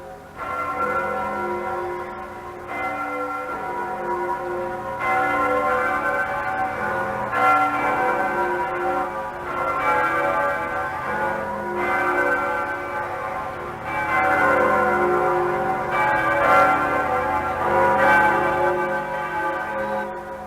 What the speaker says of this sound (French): les cloches de Saint-Germain-l'Auxerrois sonnent